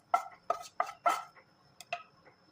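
A spoon clacks against a bowl while dosa batter is mixed with sautéed onions, giving about six close, distinct clinks in an uneven rhythm with no talking.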